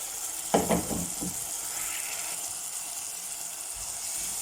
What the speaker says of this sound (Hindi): इसको हम अच्छी तरह मिक्स कर लेंगे तड़के के अंदर।